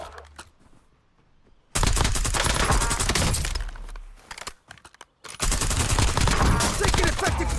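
Heavy automatic gunfire in Call of Duty: Warzone, long loud bursts of rapid shots after a quieter opening, with a brief pause mid-way before the firing resumes close and intense.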